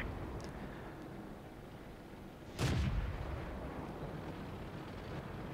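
A single heavy cannon shot from a Jagdpanzer IV tank in World of Tanks booms once, moderately distant and muffled, over a steady low engine rumble.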